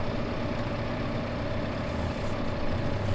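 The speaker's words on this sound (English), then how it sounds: "Oh, it's struggling with this tractor though." Tractor in Farming Simulator 2015 towing a header trailer, its engine droning in a steady low, heavy rumble under load, continuous with no talk.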